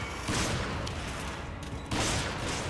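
Video game gunfire and a grenade blast in Resident Evil 5, with two loud bursts of explosive noise and steady shooting, no talk over it.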